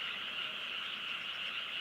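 Frogs croaking in a dense outdoor chorus near Tono, a continuous, even, buzzing trill at moderate distance with no pauses and no voices.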